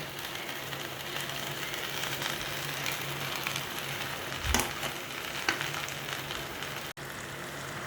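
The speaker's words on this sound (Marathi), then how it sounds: "आपण ही भेंडी याच्यामध्ये टाकलेली आहे आणि एकत्र वगैरे केलेली आहे ती आता शिजत आहे" Chopped okra (bhindi) sizzles steadily in a hot pan, a continuous crackling fry with a few soft stirring knocks, close and moderately loud with no talk over it.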